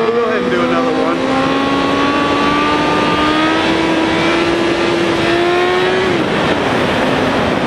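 Motorcycle engine revving hard and holding a climbing, loud drone as the rider pulls a wheelie, a steady close roar over wind noise that drops off sharply near the end.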